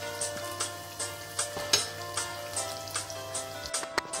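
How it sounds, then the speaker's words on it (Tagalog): Pork belly (liempo) frying in a pan, with a soft continuous sizzle broken by regular small pops and crackles at low volume, no speech present. "Tapos na po akong prito. Luto na po yung aking fried liempo."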